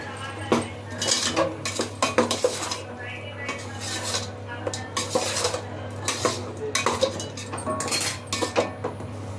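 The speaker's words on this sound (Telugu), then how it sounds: "వేసుకొని కలుపుకోవాలి" A metal spoon scrapes and clanks steadily around a pot of chicken biryani made with regular rice, with repeated clinks and stirring scrapes close up and no talking.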